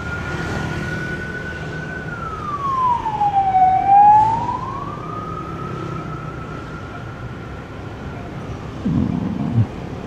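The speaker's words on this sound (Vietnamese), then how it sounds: "Tiếng xe cứu thương." An ambulance siren wails along a street in Ho Chi Minh City, a single long tone that slides down and back up, heard at moderate distance over steady traffic hum.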